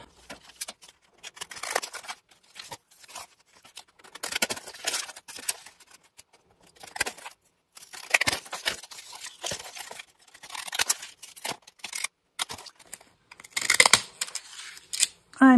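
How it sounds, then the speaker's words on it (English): Paper cut with fancy decorative-edge scissors, giving repeated crisp snips and rustles in short bursts separated by quiet gaps, close up and fairly loud, with no talking. "And two, you can use fancy scissors."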